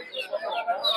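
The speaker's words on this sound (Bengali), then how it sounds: "দর্শক দেখতে পাচ্ছেন একটা চাসিল মুরগি" A chicken at a busy poultry and bird market in Narsingdi, Bangladesh gives a quick series of short, high clucking calls, close and fairly faint, lasting about a second.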